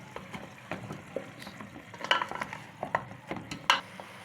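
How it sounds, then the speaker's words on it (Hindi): Beef and spices for nihari fry in a pot while being stirred, giving an irregular clatter and scrape of a spoon against metal over a soft sizzle, close up and with no voices. "अब ये डालकर हम इसको अच्छे से भूनेंगे।"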